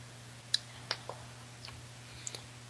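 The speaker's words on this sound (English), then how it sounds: "am I hearing my own typing?" Keyboard typing nearby: a few sparse, quiet key clicks scattered over a couple of seconds against a low steady hum, with no talking.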